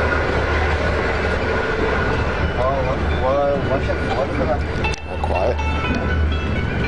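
Steady rumbling running noise fills a Chinese passenger train carriage near the gangway between cars, a loud constant roar with faint rattles and clicks while people speak over it.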